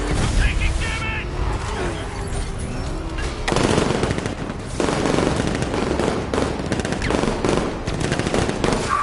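Enemy gunfire in the Batman Arkham Knight video game, with loud rapid machine-gun bursts and repeated shots over about nine seconds and someone talking over the firing.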